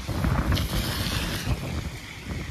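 Strong wind blowing at a flooded ghat on the river in Varanasi during the 2024 floods, a loud buffeting roar battering the microphone with gusty swells and no speech.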